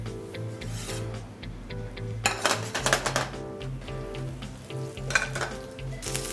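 Vegetables roasting in oil in a restaurant kitchen pan, giving a steady close sizzle and crackle, with a steady low kitchen hum underneath and a few brief scraping surges.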